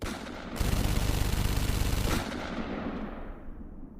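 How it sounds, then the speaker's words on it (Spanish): A sustained burst of rapid gunfire from a firing squad roars for about a second and a half, then fades into a ringing, decaying rumble. "Son abatidos con una nueva ráfaga de disparos."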